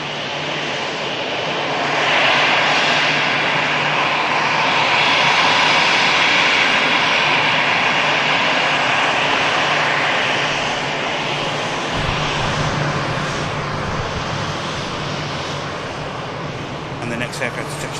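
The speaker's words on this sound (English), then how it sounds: "Aircraft to touch down is this 330" An Airbus A330 jet touching down at Manchester Airport: a steady, loud broadband engine and airframe roar sustained throughout, shifting slightly in tone partway through as the landing rolls on.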